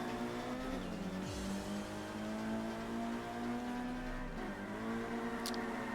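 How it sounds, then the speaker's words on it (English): Mazda Miata chasing a Toyota Supra uphill on Myogi in a racing video game, a sustained revving engine drone with two sharp pitch dips as gears change or the car brakes, and faint tire squeal late on. "Lackey and the Miata chasing a Supra on Myogi Uphill"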